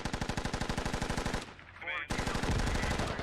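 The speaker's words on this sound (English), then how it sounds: "Russian mortars on the militia main base are..." Rapid automatic gunfire and thudding blasts in a military video game while mortars fall on a militia main base, loud and continuous, then a short lull before heavy firing resumes.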